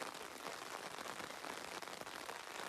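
Steady rain falls at Devagiri fort near its main entrance, a dense, even hiss of drops on surfaces that stays constant and fairly close throughout, with no voices.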